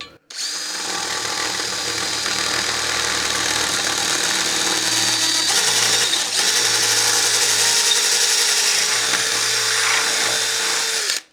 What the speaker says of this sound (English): I would suggest you use a blunt masonry bit